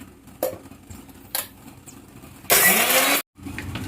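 A kitchen mixer grinder blends banana milkshake ingredients. Two short whirring pulses come first, then a longer, loud grinding burst that stops abruptly, with no voices.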